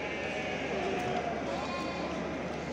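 Sheep bleat at the Çorum livestock market, a few brief calls rising over a busy murmur of traders talking and steady crowd noise.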